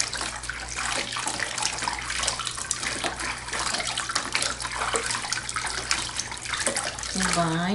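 Bathwater at 36 to 37 degrees splashes and pours while a newborn baby is washed, a steady running and sloshing water sound close up, with a brief squeaky cry near the end.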